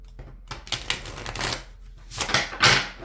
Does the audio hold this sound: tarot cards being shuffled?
yes